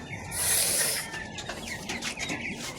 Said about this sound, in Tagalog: Ipapakita ko sa inyo guys yung yung mga sisiw na ginawan ko ng kulungan